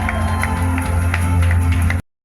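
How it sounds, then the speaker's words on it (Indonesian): A crowd applauds at the closing of the Aceh Film Festival 2025, a dense, even wash of clapping over a loud low hum that cuts off abruptly after two seconds. "Tepuk tangannya untuk kita semua"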